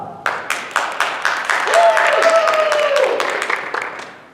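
Audience at a rehearsal of the musical The Mystery of Edwin Drood applauds in a steady run of claps that builds and holds for several seconds, with a sung or sustained voice rising over the middle of it.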